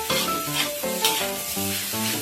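Loud sizzling of Japanese rice stir-frying over high heat in a hot pan, with rhythmic scraping strokes of a spatula stirring, close up, no talking.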